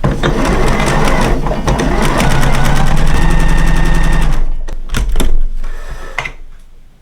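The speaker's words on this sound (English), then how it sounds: "we're gonna sew 2 rows, so 1 at 1/4 inch, and then 1 just inside that" A sewing machine stitches two rows on fabric, running fast and rattling close up for about four seconds, then stopping, followed by a few clicks and thumps as it is handled.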